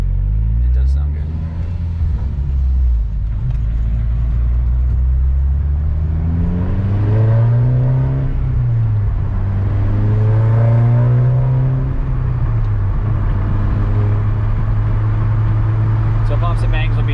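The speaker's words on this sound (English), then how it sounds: "It's hard to kind of get through the video how good the exhaust sounds" Volkswagen MK6 GTI running a Stage 3 K04 tune, its exhaust droning low and rising and falling as the engine revs climb and settle, heard from inside the car under steady talk.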